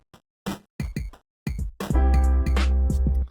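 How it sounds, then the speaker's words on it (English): Gritty, lo-fi 8-bit video-game-style sound from a Bit Crusher effect in Soundtrap: a few short choppy bursts, then a denser sustained buzzy passage with low thumps, close and fairly loud, no talking. "So that effect sounds like an old video game"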